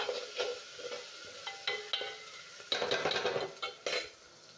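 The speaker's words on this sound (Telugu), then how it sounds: "ఇంకా కొంచెం వేగాలి టమాటా" Tomato frying in a pan for a white chickpea curry, stirred with a metal utensil: soft sizzling under a series of sharp clinks and scrapes against the pan, irregular and close, with no voices.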